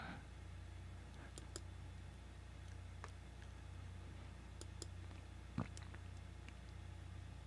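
A computer mouse clicks repeatedly while someone skips through an online video, sparse light taps spread irregularly across a quiet room tone, with one slightly louder knock near the end.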